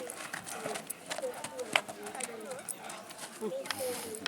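Horse hooves clip-clop in an irregular rhythm at a Camargue manade as the horse performs lateral movements, moderately close, under a guide's continuous talk.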